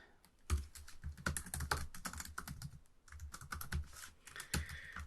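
Close, quiet typing on a computer keyboard while writing code, a busy run of key clicks in uneven bursts with a short pause midway, no talking.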